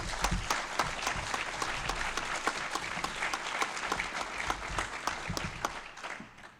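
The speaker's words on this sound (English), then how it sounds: "please just join me in a round of applause" Audience applause at a panel event on Central Massachusetts businesses, a steady round of clapping from a moderate crowd with individual claps standing out, holding even then tapering off at the end.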